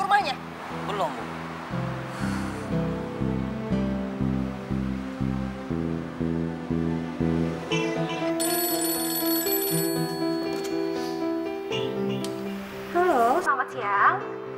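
A telephone rings at a house, a repeated electronic ring pattern in regular bursts over background music, fairly loud and close, with a brief voice near the start and end.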